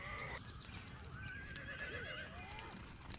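A horse in Conan Exiles, under attack, gives a loud, drawn-out whinny over a background of hoof clatter and game ambience.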